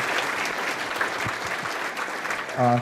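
A luncheon audience applauds steadily for nearly three seconds, a dense, continuous clatter of many hands heard from within the room, with no speech over it.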